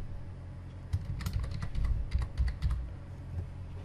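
A computer keyboard is used to type a file name: a short burst of quick, close key clicks of varying loudness, in brief clusters over a low background hum.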